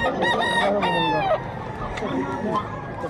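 A rooster crows loudly and nearby at a pet market in Bocaue, Bulacan, its long rising call followed by shorter clucking sounds amid faint market bustle.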